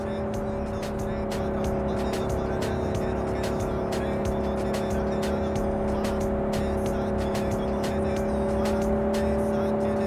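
A car driven fast in Cyberpunk 2077: a steady engine drone with layered tonal whine holds throughout, with sharp clicking transients scattered over it and a game score underneath.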